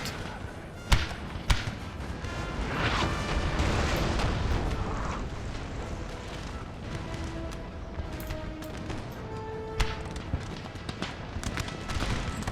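Artillery cannons fire in Napoleon: Total War (Darthmod mod) on a battlefield, with a few sharp booms standing out over a dense, rumbling mix of distant gunfire and battle din, while someone talks over it.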